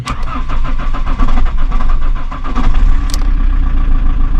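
Small car cranking and catching after a fuel filter swap with the clutch held down: a fast starter whir, then the engine fires and runs loudly but unevenly, close to the microphone, with no talking.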